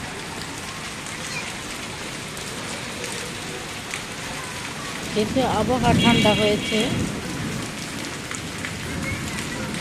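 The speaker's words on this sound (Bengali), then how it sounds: "এই যে দেখুন শিল পড়তেছে, শিলাবৃষ্টি হচ্ছে এবং বিদ্যুৎও চমকাচ্ছে।" Hail and rain pelting down during a hailstorm in Dhaka, a steady dense patter throughout with a louder burst of clatter midway, while a person speaks briefly over it.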